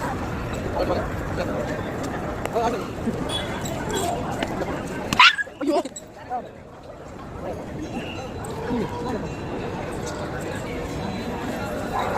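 Dog barking outdoors at night near a temple town, a sharp close yelp and a few barks midway over a steady background of crowd chatter and ambient noise.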